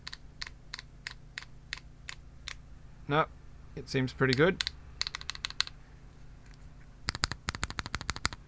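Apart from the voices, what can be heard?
aluminium HIBI artisan keycap flicked on keyboard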